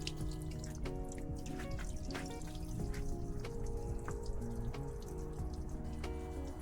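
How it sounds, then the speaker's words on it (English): Water overflowing from the fresh water tank of a 2024 Entegra Ethos 20D RV, faint steady trickling and dripping with scattered drops over a low background hum. "Anytime you see water coming out of this area right here, it means the freshwater tank is full."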